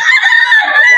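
Bullstag rooster at a pet market, a single loud sustained crow with strained, raspy harmonics running the whole second, close up and clear.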